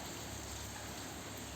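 Heavy rain pouring steadily outdoors, a dense, even hiss with no breaks, heard at a moderate distance and quite faint overall.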